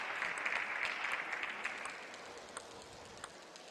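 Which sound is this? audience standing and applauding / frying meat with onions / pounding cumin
audience standing and applauding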